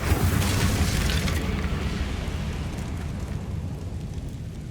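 Incendio fire spell cast in the Hogwarts Legacy video game, a loud, sustained whooshing roar of flame that bursts at the start and carries steadily throughout, with no talking.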